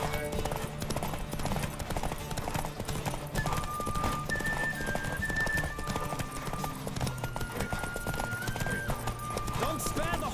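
A horse gallops hard in a Witcher 3 race, rapid hoofbeats driving continuously beneath game music while voices call out over the run.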